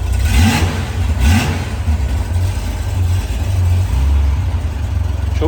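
A 1994 Honda Goldwing 1500 Aspencade motorcycle engine runs steadily with the choke fully off, its loud, close low rumble swelling briefly in a couple of revs before settling into an even idle.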